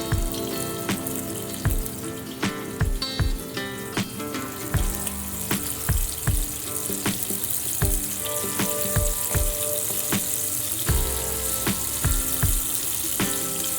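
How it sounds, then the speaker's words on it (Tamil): Prawns for Prawn 65 fry in oil over a medium flame, a constant bright sizzle with regular knocks and taps of a utensil against the pan throughout. "இந்த ப்ரான் கொஞ்சம் நேரம் ஃப்ரை ஆகிட்டு இருக்கட்டும்."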